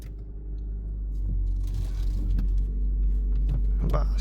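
A bus engine runs close by with a steady, heavy low rumble throughout. A few light clinks and scrapes sound over it, and a faint voice can be heard.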